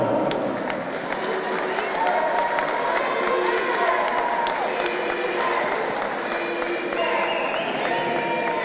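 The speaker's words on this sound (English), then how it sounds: "please keep that round of applause going as well for the very gallant runner up there, Alistair Warren" Sustained crowd applause with scattered cheers fills a darts match at Victoria Warehouse, Ben Sheedy against Alistair Warren, as the runner-up is saluted; steady and dense throughout, with voices mixed into the noise.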